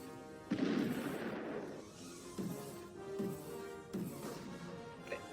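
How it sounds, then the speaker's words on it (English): A barrage of cartoon rockets fired at RoboCop by Inspector Gadget: a heavy whooshing blast followed by several more booming bursts at intervals, loud and close, with no speech over them. "He's throwing every single rocket at him!"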